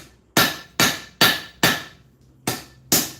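Six loud, close hammer blows on Damascus steel during forging, evenly spaced sharp strikes with brief ringing decay and a pause before the last two.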